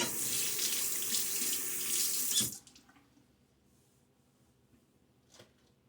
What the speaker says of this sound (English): And rinse away the stubble a little bit